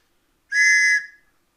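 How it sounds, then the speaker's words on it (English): A small whistle from a 1960s vintage all-purpose storm kit gives one short, shrill blast of about half a second, close up and otherwise silent. "And this is a whistle, maybe?"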